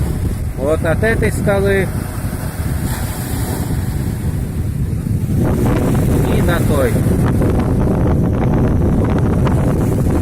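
Strong wind buffets the microphone at a wild sandy beach on the Sea of Azov, a constant roar with a surf-like wash underneath, while someone talks over it.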